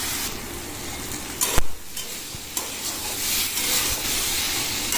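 Shol fish fries in a pan with a steady close sizzle and hiss while being stirred, broken by a sharp clatter midway and a softer tap after.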